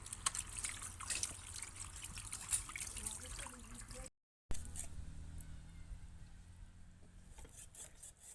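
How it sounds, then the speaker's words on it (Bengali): Pieces of village duck are scrubbed clean under a running tap, a continuous trickling, splashing stream of water with handling noises, dropping out for a moment before the flow resumes more quietly. "দেখো নলের জল দিয়ে ভালো করে কষতে কষতে দিয়ে নিচ্ছি"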